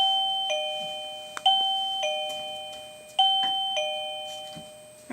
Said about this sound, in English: to use this little doorbell button here